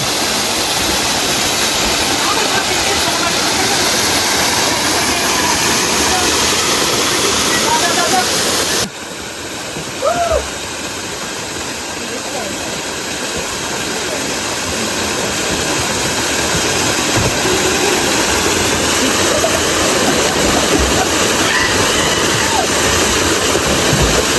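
A powerful waterfall near Paderu, Andhra Pradesh, roars steadily, a loud, continuous wash of rushing water close by that barely changes from start to finish.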